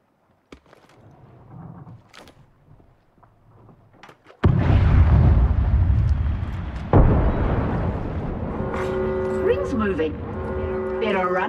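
Grenade blast in the battle royale shooter Apex Legends: a sudden loud explosion bursts in after quiet clicks and muffled sounds, followed by a second thump and a long rumbling roar with tonal in-game effects.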